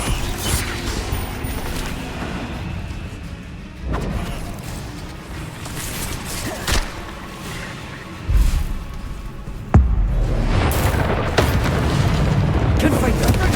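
Confringo fire-spell blasts in the Hogwarts Legacy video game: repeated booming explosions with creaking, rumbling mechanical noise between them, loud and dense throughout.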